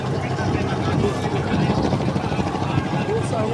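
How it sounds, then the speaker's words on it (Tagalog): A helicopter flies over a fluvial river parade at the Cantago Festival, its steady rotor drone filling the air loud and continuous, with talking mixed in. "doon na itong helicopter"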